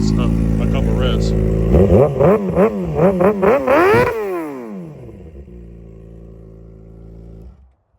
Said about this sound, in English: Now let's give it a couple revs.